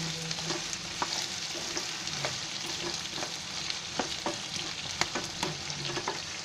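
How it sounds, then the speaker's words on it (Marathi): Brinjal pieces fry in hot oil over a high flame while being stirred, a continuous sizzle punctuated by regular scraping and clacking of the spoon against the pan; no one speaks. "ती वांगी आहे ना पहिली तेलामध्ये अशी टाकायची."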